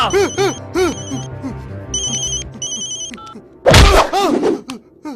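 A telephone rings in a Bengali movie scene, its electronic ringtone repeating in steady bursts and cut through by a loud thump near the end.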